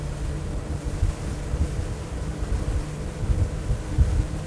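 A Cigarette 42 Huntress speedboat with 1,750 horsepower planes at about 25 knots over water with a steady low engine roar, rushing water and heavy wind buffeting the microphone throughout; no one speaks.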